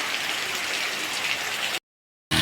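Steady rain falls in a dense, close hiss, broken by a short silent gap before resuming.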